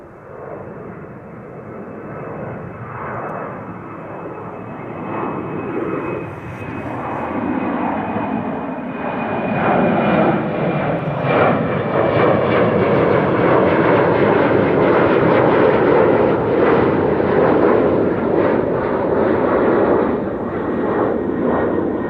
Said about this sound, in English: In the meantime, the Embraer is already climbing up.